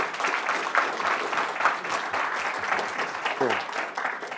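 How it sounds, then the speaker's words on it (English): Audience applause after a talk on managing Apple devices at a tech conference, a sustained round of clapping from a room of people with some voices underneath. "Don't everybody clap at once."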